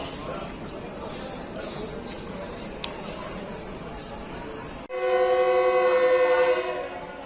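The Hazara Express of Pakistan Railways sounds its whistle in a loud, sustained blast that cuts in abruptly and holds for a few seconds, after station rumble and someone talking.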